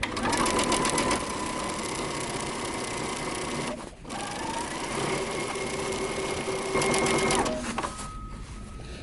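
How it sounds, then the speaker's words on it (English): A sewing machine stitches a pant hem close to a serged edge in a steady, rapid whir. One short pause partway through, then the stitching continues without any talk. "I'm just gonna stitch close to my my serged line here"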